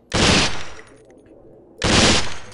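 Two loud full-auto bursts from an M4 rifle in the Swat 4 video game training course, each a short roaring volley with a decaying tail and a silent gap between them.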